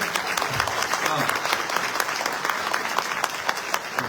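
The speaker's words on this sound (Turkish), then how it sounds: "bir alkış rica ediyorum" Applause at a political party district advisory meeting: a steady burst of clapping from a roomful of people, moderately loud and continuous for several seconds.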